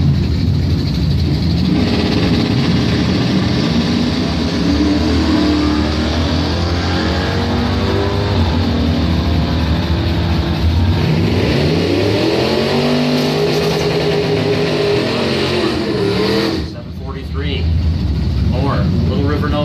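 Doorslammer drag race cars, a Mustang and a 71 Nova SS, roar at a Bonfire Salute race, loud sustained engine noise with rising revving sweeps, while an announcer talks over it.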